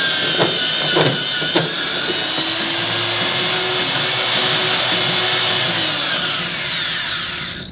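The chain-driven facer on a Widos 4000 Series plastic pipe fusion machine runs with a steady loud motor whine and chain rattle, after a few sharp knocks at the start, then winds down at the end.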